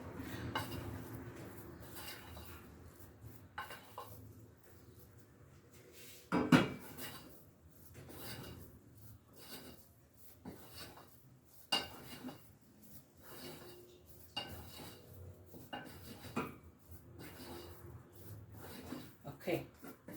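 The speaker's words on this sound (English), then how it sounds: "I'm just continuously stirring it." Choux dough for chocolate eclairs is stirred continuously in a pot. A spoon scrapes and knocks quietly against the pot in irregular strokes, with one louder clunk, while a person talks over it.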